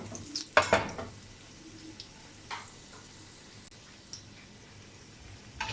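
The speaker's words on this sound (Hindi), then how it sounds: "देखिए हमारे जो कबाब है कितने प्यारे गोल्डन फ्राई हो गए।" Chapli kababs frying golden in a pan make a soft continuous sizzle, broken early by a loud clatter of a utensil and a few later knocks and scrapes, with no one speaking.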